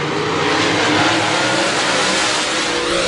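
Late model stock cars race around a dirt track at the Clyde Ellis Memorial, engines roaring loudly and continuously at high revs as the pack drives close by.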